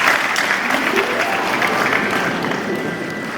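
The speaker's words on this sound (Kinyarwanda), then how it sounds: "niha amashyi abatubwiye wese" A crowd at a school ceremony honouring the patron saint of GS Nkombo breaks into dense, continuous applause that holds steady and loud throughout, with a faint murmur of voices underneath.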